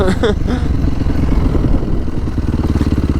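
A dirt bike engine rumbles loud and close on gravel, with rattling clatter and shifting revs under voices; someone speaks over the continuous motor noise.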